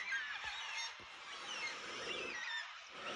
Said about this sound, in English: welcome back, black cockatoos.